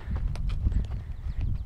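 A horse's hooves clip-clop at a steady walking rhythm during a flat ride at a barn, close and fairly muffled, with a few faint birds chirping in the background.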